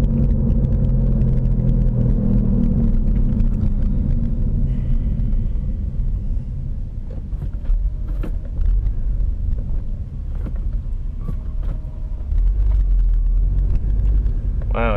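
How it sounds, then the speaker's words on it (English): A rough-running truck engine rumbles steadily on the road, loud and close throughout with some wind noise over it and no talk. "Wow, his truck sounds like shit."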